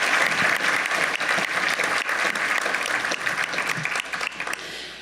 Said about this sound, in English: Can I get a big round of applause for all of our mayors?